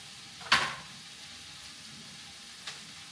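Garlic and other ingredients frying together in a pan give a quiet sizzle, with one sharp hissing burst near the start and a fainter flare toward the end.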